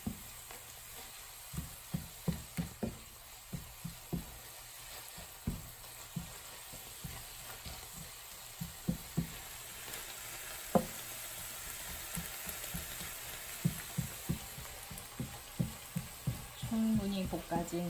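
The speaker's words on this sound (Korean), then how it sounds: "지글지글 맛있게 볶아주고 있습니다." Squid and kimchi stir-fried in a pan for kimchi fried rice sizzle steadily, with frequent sharp clacks of stirring, while a person talks over the cooking.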